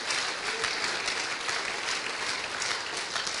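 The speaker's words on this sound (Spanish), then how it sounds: "Denle ese aplauso fuerte al Rey de Reyes y Señor de señores." A church congregation gives loud applause during a sermon, dense clapping sustained throughout with no pauses and no voice on top.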